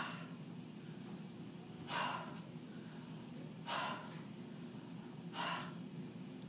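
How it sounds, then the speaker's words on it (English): Three deep, audible breaths, evenly spaced, in a demonstration of hyperventilating. Each is a short rushing gasp over a faint, steady room hum. "Deep breath in and deep breath out."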